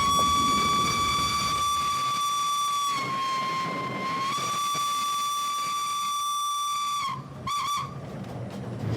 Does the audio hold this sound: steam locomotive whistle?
yes